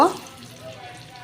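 Paneer frying in a pan over a gas flame, a brief steady sizzle that starts with a louder burst and settles into a soft, even hiss with no talking.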